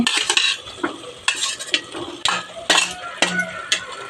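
Shrimp frying in masala in a pan for shrimp biryani, stirred with a utensil: a steady sizzle under repeated bright scraping and clinking strokes, close and fairly loud, with no talking.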